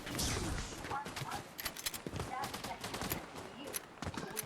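Rapid shotgun blasts and building clatter from a Fortnite match sound in a busy, close cluster of sharp bangs, with a voice talking over the action.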